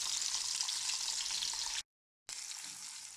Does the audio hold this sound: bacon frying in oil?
yes